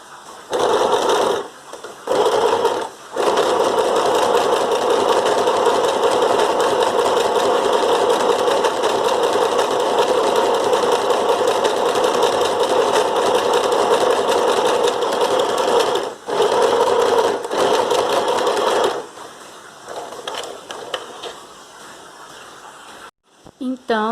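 A sewing machine stitches a fabric face mask in long, steady, close runs, with a few short stop-and-start bursts at the beginning and a pause near the end, and someone speaking in Portuguese over it.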